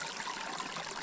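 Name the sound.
mountain stream running water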